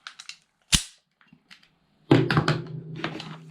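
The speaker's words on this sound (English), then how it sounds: "when I cock it, the barrel actually rotates" A rotating-bolt pistol being handled and cocked, with sharp metallic clicks, a loud snap, then a heavier clattering clack with ringing metal, all close up.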